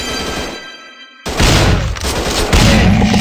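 Loud gunfire in a first-person shooter commando game with a shotgun, dense bursts of shots and booms after a brief quiet gap, continuing heavy and close to the end.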